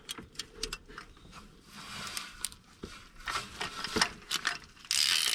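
Ratcheting clicks from a hand tool tightening a part during a Peugeot 107 service covering spark plugs, oil filter and air filter, heard as close, rapid bursts of mechanical clicking with brief pauses and a louder hiss at the end.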